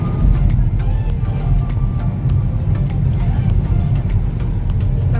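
Car on a road trip through Normandy, a loud steady low engine and road rumble heard from inside the cabin, with faint ticking noises above it and no clear talking.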